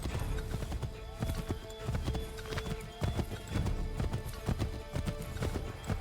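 Horse hooves clip-clop at a steady trot in Assassin's Creed III, crisp repeated hoof strikes close by with the odd whinny mixed in, set against game ambience and no speech.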